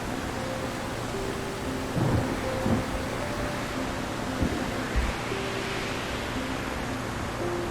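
A stormy downpour in the video game Solarpunk: steady heavy rain hiss with low rumbles of thunder rolling in the background throughout, no voices.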